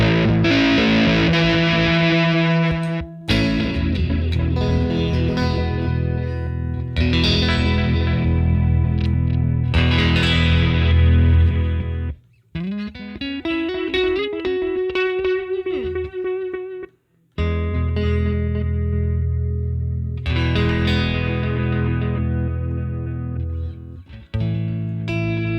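OBNE Parting delay and reverb pedal processing a chorded guitar, loud strummed chords with long repeating delay trails and washy reverb, then a sliding, swelling feedback-like tone midway before more echoing chords return.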